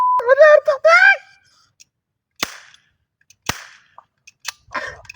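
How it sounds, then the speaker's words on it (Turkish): Cap guns crack in a mock cowboy duel: a few sharp, loud pops spaced out after a burst of expressive vocal sound, with quieter clicks and rustles between shots. "Maganda gibi kurşun sıkıyorsun"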